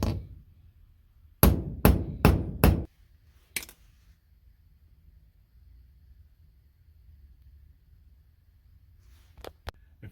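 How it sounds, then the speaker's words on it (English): Four sharp, close knocks in quick succession, then a single strike a moment later and two faint taps near the end, a punch tool being hammered through leather. "Then punch holes so you can insert a key ring."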